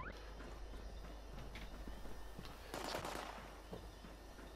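Gunfire in Fallout 76, a faint scatter of sharp cracks and pops with a denser burst near the middle, over a constant low background hum.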